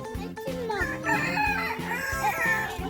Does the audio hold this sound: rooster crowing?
yes